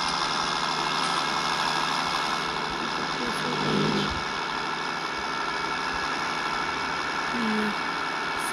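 A tractor engine idles steadily in Farming Simulator 20, a constant low mechanical drone that stays close and even throughout, with a faint brief voice in the background.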